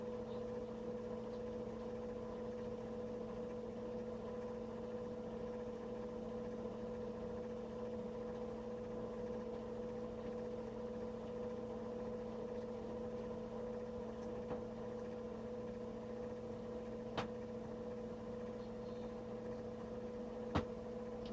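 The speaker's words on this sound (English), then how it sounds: "I'm sorry for the noise in the background." A space heater running in a room, a steady low electrical hum with a constant drone and no change in level, faint and continuous with a couple of tiny clicks, no talk.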